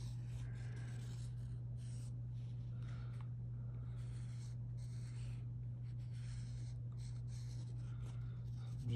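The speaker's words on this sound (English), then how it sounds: "I'm just going to kind of trace around like that." Pencil scratches on paper as it traces around a round object to outline a sphere, a soft continuous rasp in short strokes, close up over a steady low hum.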